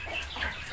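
Village chickens being fed homemade feed, a single soft, short cluck heard faintly and close by, alone.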